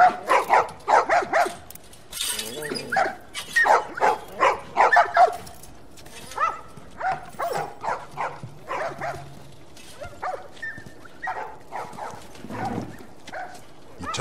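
Dogs bark in The Last of Us Remastered video game, a quick run of repeated close barks and yelps that grows sparser and fainter, with a voice briefly heard between them.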